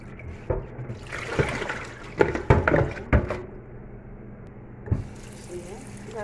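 Camel meat is rinsed under a kitchen tap, with water splashing and trickling in uneven bursts amid light clatter, and a quieter stretch in the middle.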